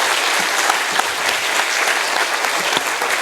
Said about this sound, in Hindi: एक बार और बताओ कि ज़ोरदार तालियां कैसी होती है